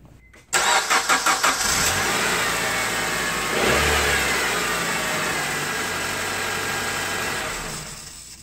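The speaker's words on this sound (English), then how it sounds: "let's crank it up on the new battery and see how it does" A 7th or 8th generation Honda Accord 4-cylinder engine on a new battery gives a brief rhythmic crank, then catches and settles into a loud, steady idle after a short rev, heard up close.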